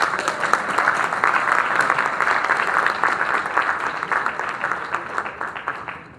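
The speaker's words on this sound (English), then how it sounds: "Let's give them all a round of applause." A graduation crowd at a Mandela Washington Fellowship ceremony bursts into applause, a dense patter of many hands with a few sharp nearby claps, fading gradually over about six seconds.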